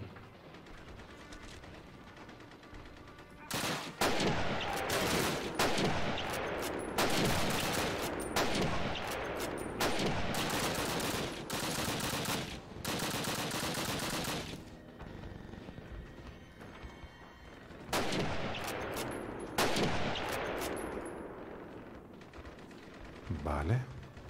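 Gunfire in the Call of Duty PC game: loud bursts of shots and rapid automatic fire come in dense clusters, with brief lulls between volleys and a constant battle din underneath.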